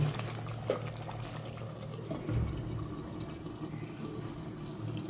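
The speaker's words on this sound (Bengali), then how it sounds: "আরও 5 মিনিট সিদ্ধ করতে থাকবো মাংসটি।" Goat head meat boils in a cooking pot, giving a low, continuous bubbling burble that stays steady and fairly quiet with a few small clinks.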